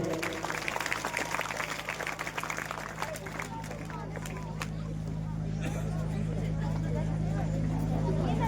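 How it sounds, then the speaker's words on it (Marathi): Students applaud at a birthday felicitation ceremony for an industrialist, a dense crowd of hands clapping steadily and close by, mixed with crowd babble, with a constant low electrical hum beneath. "जोरदार टाळ्या वाजवून सर्व विद्यार्थ्यांनी"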